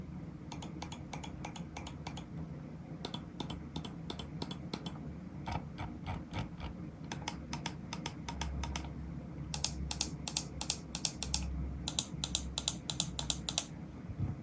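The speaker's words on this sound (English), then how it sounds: "here is a quick sound test of all of the buttons on the mouse" LAMZU Inca mouse with Omron optical switches, its buttons clicked in quick bursts and runs of sharp crisp ticks, close and distinct over a low background hum, no voices.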